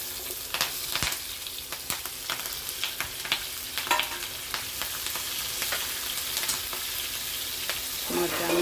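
Green chillies sizzle in hot oil with cumin, with gram flour added, a steady bright frying hiss dotted with sharp crackles and pops at close range, no voices.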